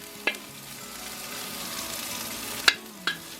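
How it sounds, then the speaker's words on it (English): Ginger and garlic stir-fried in a pan for Cantonese pork belly: a steady sizzle broken by three sharp metallic knocks of the utensil against the pan, close. "Get them stir fried up a bit."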